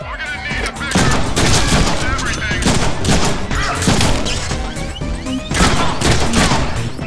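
Heavy gunfire in the Deadpool video game, continuous overlapping bursts of shots and impacts, loud and near, with voices shouting over the barrage.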